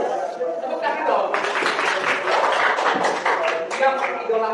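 An audience at an Indonesian Catholic religion teacher performance assessment claps in a sustained burst of applause, with scattered chatter and voices mixed in throughout.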